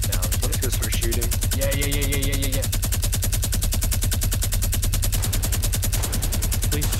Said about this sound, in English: Let's just start shooting.